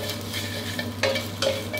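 Crispy pork belly is stir-fried in a hot wok with chili and salt, giving a steady close sizzle with a few scraping stirs and light utensil clinks.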